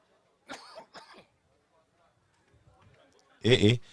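A loud, harsh cough bursts out near the end, after a couple of short vocal sounds and a quiet stretch.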